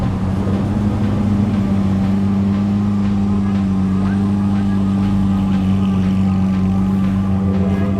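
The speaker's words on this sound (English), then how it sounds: "That is going from 0 miles an hour to 100 miles an hour," A supercar at the 2017 Detroit Auto Show accelerates hard, its loud engine a steady, close, droning roar that keeps rising without a break.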